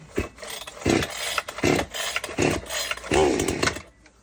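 Four or five rhythmic rasping pulls on the starter cord of a GreenForester household petrol chainsaw, close and sharp, each a brief whirring scrape; the engine does not catch.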